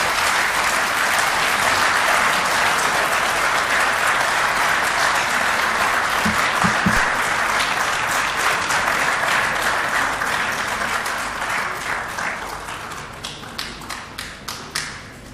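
Sustained, loud applause from a large audience at a presidential ceremony marking a president's first 100 days, steady dense clapping that thins toward the end into scattered individual claps.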